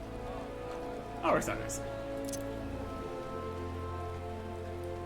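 Rain falls in the video game Final Fantasy XIV as a steady, soft patter under sustained game music, while someone talks over it.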